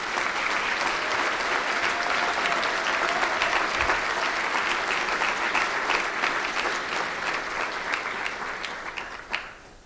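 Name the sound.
audience applause at an award acceptance speech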